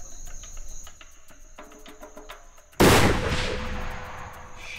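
A single loud hunting rifle shot fired at a hyena across an open African landscape, one sharp crack followed by a long rolling echo, heard over steady cricket and insect chirping.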